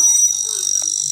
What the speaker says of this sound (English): There is an alarm system located next to the antenna, which rings if any portion of this machine is damaged.